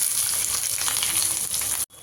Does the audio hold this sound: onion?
yes